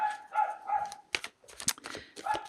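A dog gives several short barks and yips in quick bursts, moderately close, with quiet gaps between them.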